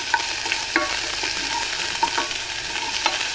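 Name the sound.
sautéing chili, garlic and carrot for upma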